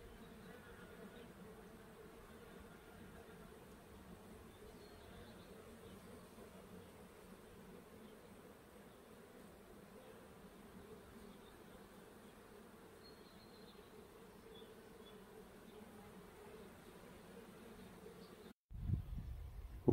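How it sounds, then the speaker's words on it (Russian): A steady, soft drone of buzzing bees hums throughout in a blossoming apple orchard, fairly faint and continuous, ending with a brief louder rustle. "И вот так вот гудят пчелы."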